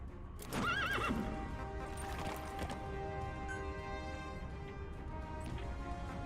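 D-Horse, the horse companion in Metal Gear Solid V, lets out a loud whinny near the start, then a steady clip-clop of hooves runs on with no talk.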